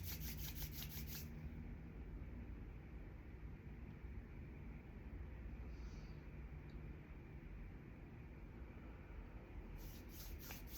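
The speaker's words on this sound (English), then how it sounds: "rubbing your hands together." Hands rubbing together after applying cypress essential oil, a steady soft close-up friction that continues evenly without pause, quiet and alone with no talking.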